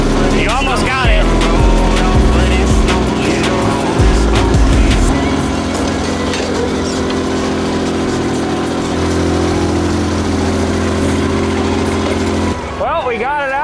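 A skid steer's engine drones loud and steady up close throughout while it pulls an axle from a 6.0 Powerstroke donor truck, with brief shifts in pitch and metallic clatter early on.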